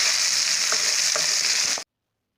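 Cashews and ginger-garlic paste fry in a pan for paneer butter gravy, giving a loud, close, steady sizzle with a few soft stirring scrapes before it cuts off abruptly.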